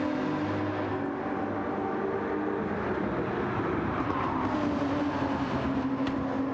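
GT3 race cars lapping a track in a sim racing game, with a steady, continuous engine drone through an uphill run of S-bends, held at an even level without pauses.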